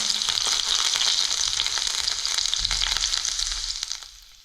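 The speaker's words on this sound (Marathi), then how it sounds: "लसूण मिरची चांगली आता परतून झाली तेलात" Garlic and green chili sizzle in hot oil after cumin seeds crackle, a steady close frying hiss that fades out at the end, with no talking.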